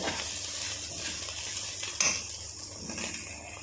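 Garam masala being stirred into ridge gourd curry frying in a pan: a dense, even sizzle with a single sharp metallic clink of the spoon near the middle.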